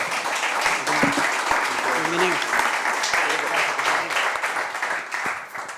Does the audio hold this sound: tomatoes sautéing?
no